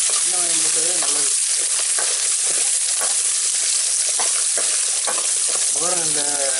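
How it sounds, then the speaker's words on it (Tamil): Small shallots and garlic fry in oil toward golden brown, a loud, dense, continuous sizzle close by. Brief wavering tonal sounds ride over the hiss at the start and near the end. "வெங்காயமும் பூண்டும் வந்து நல்லா பொன்னிறமாக வதங்கணும் எண்ணெயில்"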